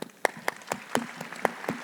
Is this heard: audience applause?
yes